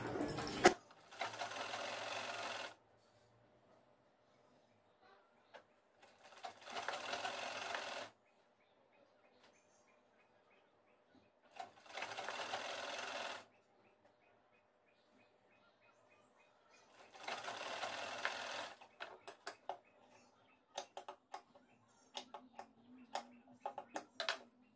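A sewing machine stitches navy blue piping fabric in four separate runs of steady, rapid whirring, each lasting a couple of seconds, with quiet handling sounds in the pauses between runs.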